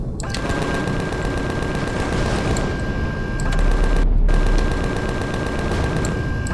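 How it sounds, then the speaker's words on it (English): Sustained rapid automatic gunfire between rival factions in the space game Empyrion, dense overlapping bursts with booming impacts and a steady electronic hum, continuous and loud throughout, with a brief gap near the end. "They are shooting each other, I just realised."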